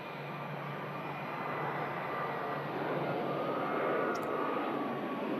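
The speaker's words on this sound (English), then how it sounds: "Emirates just arriving on stand there." An Emirates airliner taxiing onto its stand at Manchester Airport, a steady distant jet engine roar holding at an even level throughout, with no talk.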